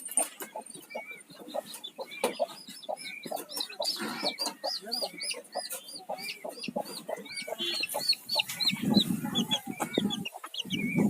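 Native country chickens in a farmyard: day-old chicks peep in rapid, high, overlapping chirps while a rooster and hens cluck and call steadily throughout, with a louder flurry near the end.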